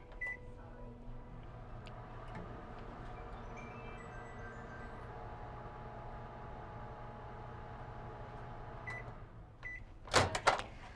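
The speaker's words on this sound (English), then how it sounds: "I'm going to put this in the microwave, and this microwave just takes off" A microwave oven heating a container of cold water, a steady low hum with a constant drone running under faint room noise, ending in a brief louder burst of clatter near the end.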